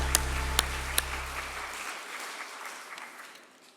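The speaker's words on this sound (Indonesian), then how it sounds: "Mari kita berikan tepuk" A church congregation applauds during a Sunday service, a few sharp claps standing out at the start over a low hum that cuts off, then steady clapping that fades gradually.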